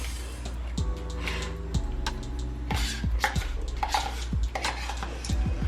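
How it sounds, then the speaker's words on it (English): Spoon clinking and scraping against a pot while sour cream is stirred into beef stroganoff, a series of close, irregular metallic taps and scrapes over a low background hum. "Now all we have to do is put the sour cream in it and mix it up."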